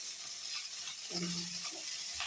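Chopped ginger and green chilies sauté in a pan for Tirunelveli sothi kuzhambu: a soft, close sizzle with a short scraping stir midway.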